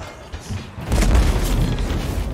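A deep, rumbling boom from an explosion in the Total War: Warhammer 2 video game rolls in loud and close, then sustains as a heavy roar to the end.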